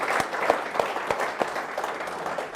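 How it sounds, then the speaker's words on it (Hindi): An Eid celebration audience claps for a singer from Kashmir, a dense, lively round of applause from many hands, fairly loud and close, continuing evenly throughout. "भरपूर तालियां हो जाए"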